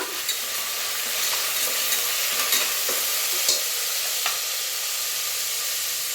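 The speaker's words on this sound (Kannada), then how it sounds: "ಚೆನ್ನಾಗಿ ಫ್ರೈ ಮಾಡೋಣ." Tempering with whole spices, bay leaf, cardamom and coriander leaves for tomato bath sizzles steadily in hot oil, close and continuous, with a few sharp stirring scrapes.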